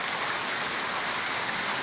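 Hailstones fall steadily on a school rooftop and grounds, a dense, even hiss of small impacts with no gaps or voices.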